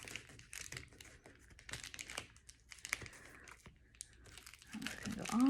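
Gaffer's tape being folded over and tucked in, giving close, irregular crinkling and crackling rustles with small taps, busier toward the end.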